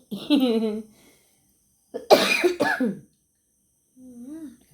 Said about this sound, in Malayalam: ചുമ ചുമയൊക്കെ മാറുന്നില്ല